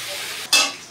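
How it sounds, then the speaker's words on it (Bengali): Onions for mutton kasa hit the hot pan with a sudden short burst of sizzling frying, loud and close after a brief quiet hiss. "ভালো করে ভাজবো পেঁয়াজগুলো"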